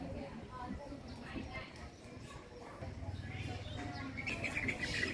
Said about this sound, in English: Look at these little chickens. I don't know if they're chickens or quails or something.